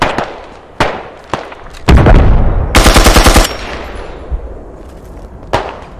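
Gunfire in the Squad combat game: a few sharp single shots, then a dense rapid automatic burst lasting about two seconds, followed by scattered, fainter shots.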